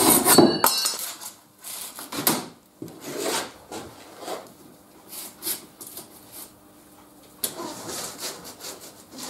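Rough, scraping strokes of a hacksaw cutting through a metal door brush strip in a workshop, irregular back-and-forth bursts with short pauses between them, close and fairly loud, with no speech.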